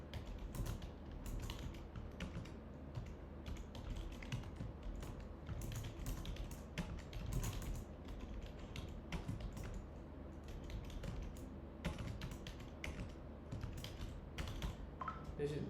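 Steady, quiet clicking of a computer keyboard as Python code for a recursive depth-first search function is typed, with keystrokes pattering continuously and close by.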